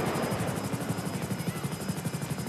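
The Airwolf supercopter from GTA 5 flying, a steady loud rotor chop with a rhythmic thumping beat and high turbine whine, close and continuous.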